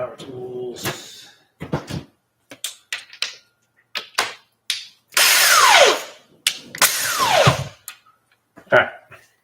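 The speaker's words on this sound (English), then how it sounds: "Some power tools." Short bursts of power tools whirring on and off up close, with brief revving drill sounds between clanks and handling noises, during work on Elise suspension.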